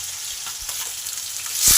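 Fish fry in a pan with a steady close sizzle, swelling louder and brighter near the end.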